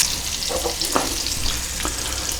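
Smoked pancetta sizzles gently in oil in a pan, a steady close crackle and hiss with a few soft stirring scrapes and no talking.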